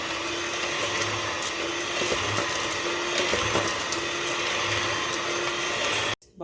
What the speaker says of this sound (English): So with the help of electric mixer, we just set it to the lowest, and then we whisk this until it becomes fluffy and doubles in size.